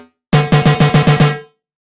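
Synth laser bass fires a quick burst of about seven rapid, evenly spaced zapping pulses, loud and close, with a short reverb tail that cuts off abruptly into silence.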